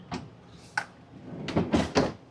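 Freezer drawers of a Samsung residential refrigerator in a 2025 Fleetwood Bounder 33C motorhome being pulled open, a few quiet separate sliding thumps and clunks, the last three close together.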